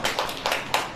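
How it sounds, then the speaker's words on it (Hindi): A church congregation claps in rhythm, with about four sharp, close group claps landing at roughly even intervals over a short stretch. "ताली बजाओ"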